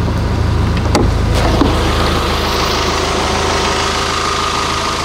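A 45 hp four-cylinder engine aboard a Bali 4.2 catamaran idles with a steady, loud low drone and vibration, running alone without talk.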